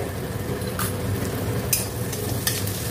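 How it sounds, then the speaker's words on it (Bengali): Onions sizzle steadily in a hot pan, being fried until reddish, with a few sharp spatula scrapes and clicks over the constant close crackle, no talking. "পেঁয়াজটাকে এবার লাল লাল করে ভাজবো"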